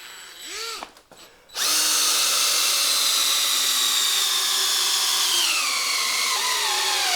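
A DeWalt cordless drill driving a socket at speed 1 whines loudly and steadily for several seconds, its pitch sagging slightly as it slows under load, after a short stuttering start.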